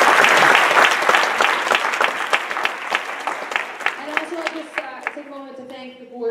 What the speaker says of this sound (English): if we could have a round of applause for the players and their efforts